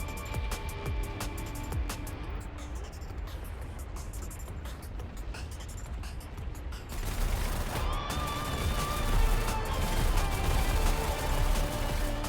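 An MG3 light machine gun rattles in rapid, dense bursts while clearing a bunker in a video game, the crackling fire continuing for several seconds before giving way to a louder, steady wash of background noise.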